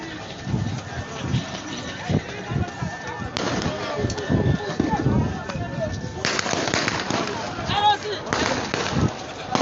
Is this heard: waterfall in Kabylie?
no